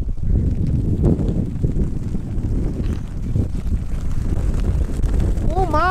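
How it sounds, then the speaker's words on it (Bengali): Strong mountain wind at Tonglu roars and buffets the microphone in a constant low rush, with gusts swelling and easing throughout. "দেখো কত জোরে হাওয়া বইছে"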